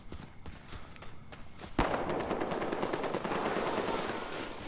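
Gunfire from Battlefield Hardline: a dense burst of rapid shots kicks in with a loud thump partway through and keeps rattling steadily to the end, close and loud, after a quieter stretch of scattered shots.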